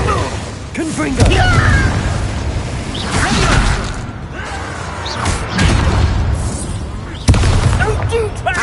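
Confringo explosive spell blasts in the video game Hogwarts Legacy, a few booming bursts with whooshes over a busy game soundscape, with voices talking throughout.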